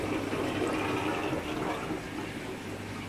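Pond water gushes steadily as it is pumped up into garden grow beds, a continuous close rushing flow that eases slightly toward the end, with no talk.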